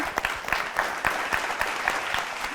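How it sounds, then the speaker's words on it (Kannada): Studio audience at a Kannada singing reality show clapping steadily: dense, moderately loud applause with a regular pulse that carries on throughout. "ಅವರಿಗೊಂದು ಚಪ್ಪಾಳೆ ಬರಬೇಕಲ್ವಾ"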